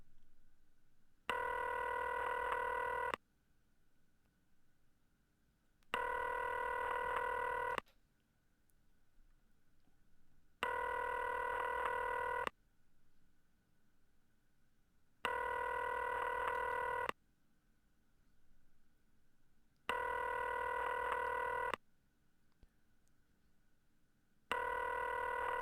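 Telephone tones in the video game McKenzie & Co come in five evenly spaced, bright bursts of about two seconds each, with quiet gaps between them and no talking.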